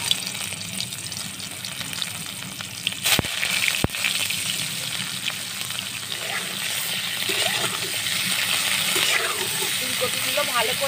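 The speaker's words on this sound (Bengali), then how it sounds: "এবার আমি ফুলকপিগুলো ভেজে নেব।" Cauliflower florets fry in hot white oil in a wok, giving a continuous loud sizzle and hiss with a couple of sharp clanks partway through, while background noise runs beneath it.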